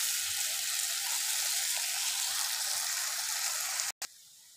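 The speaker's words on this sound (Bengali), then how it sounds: "ভালো করে ভেজে নিব, গোল্ডেন কালার অবধি ভেজে দিব" Onions and bay leaves fry in oil toward golden for chicken patiala, a steady, close, even sizzle running unbroken before a brief cut and a quieter tail.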